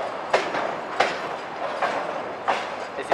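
Train rolling past on railway tracks in Saint Petersburg, a steady rumble broken by regular clickety-clack wheel beats over rail joints, close and loud.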